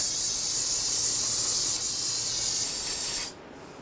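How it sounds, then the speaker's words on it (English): Brake parts cleaner hisses from an aerosol can in one long, loud, steady spray onto the front brake of a 2017–2022 Honda CR-V, then cuts off abruptly. "Take some brake parts cleaner."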